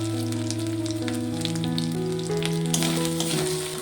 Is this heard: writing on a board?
no